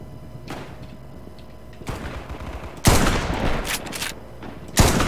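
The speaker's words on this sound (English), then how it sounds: "I'm just firing wherever I think the guy is." Gunfire in the Frontline: Karelia video game, with loud bursts of rapid automatic fire and heavy shots coming in clusters, some close and punchy, others more distant.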